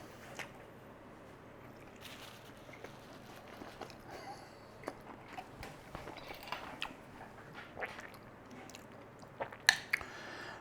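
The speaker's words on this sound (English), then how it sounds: "We got this crunchy tortilla. Really nice crunch on there." Close, crunchy chewing of a cheesy beef mince tortilla pocket with a crisp folded tortilla shell, heard as uneven bursts of bites and crunches over a quiet background.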